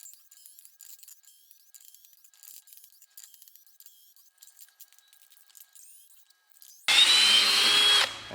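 A cordless Makita drill running on a cheap replacement battery drives a screw in one loud, close whir lasting just over a second, after several seconds of faint handling clicks.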